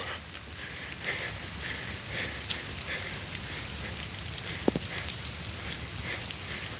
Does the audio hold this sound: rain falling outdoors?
yes